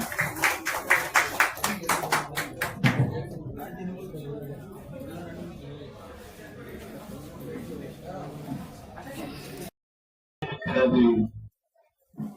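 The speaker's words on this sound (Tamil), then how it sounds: "அவர்கள் அனைவருக்கும் உங்கள் அனைவர் சார்பாக கரகோஷத்துடன் மகிழ்ச்சியை தெரிவிக்குமாறு அன்போடு கேட்டுக்கொள்கின்றேன்" An audience at a Tamil scholarly gathering at the Thirumoolar ashram in Tiruvannamalai claps in a quick burst that fades after a few seconds, giving way to someone speaking into a microphone.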